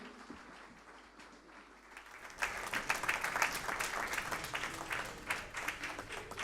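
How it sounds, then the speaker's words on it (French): Audience applause breaks out after a quieter opening, swelling into dense, sustained clapping from a crowd at a live event about shared roots and peace in Africa. "On peut applaudir, bien sûr."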